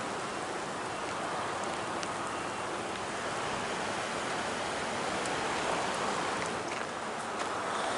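Rain falling outdoors on a rainy day, splashing onto a camera lens, heard as a steady broadband hiss with occasional faint droplet ticks, continuous and close.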